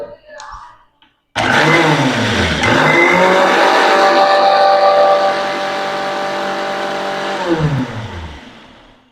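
A blender whirs loudly and steadily, beating homemade mayonnaise as oil is added, running continuously for several seconds before winding down at the end.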